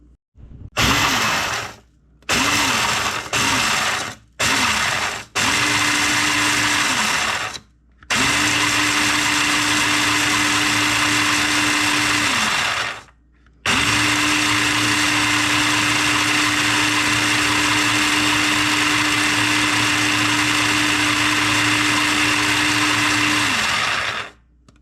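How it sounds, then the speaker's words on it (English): A food processor crushing two cups of cornflakes runs in several short pulses, then two long sustained bursts of steady, loud motor whine with crunchy grinding, separated by brief silences. "I'm fixing to put them in this processor here and"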